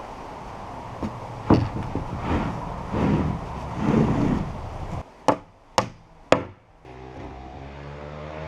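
A hammer driving nails into wooden siding boards on a sawmill shed, a few sharp, loud, separate strikes in quick succession after a stretch of softer handling noise and wind.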